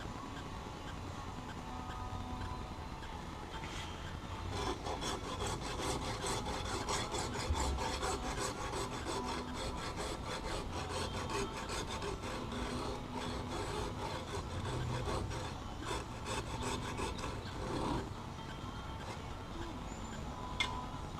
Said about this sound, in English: So we're going to cut this area out right here to expose where this hard wire is connected to the coil